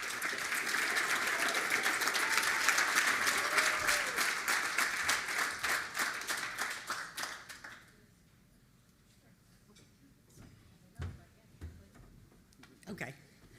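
A banquet crowd at a Young America's Foundation spring celebration breaks into loud, dense applause that holds for several seconds before thinning out to a few scattered claps and quiet room noise.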